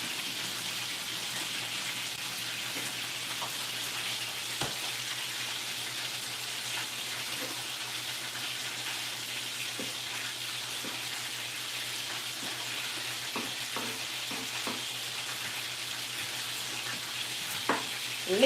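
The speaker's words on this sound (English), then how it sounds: "You can hear the pot is sizzling." Steady sizzling of food frying in a pot, a continuous crackling hiss with occasional pops and small clinks, fairly close and with no voices.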